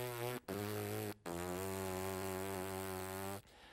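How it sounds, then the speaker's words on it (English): Slow lip buzzing by a brass player makes a low, rough, fly-like drone for low notes, heard up close in three sustained pushes with short breaks between them, alone and without speech. "I have to buzz my lips in that slow fashion."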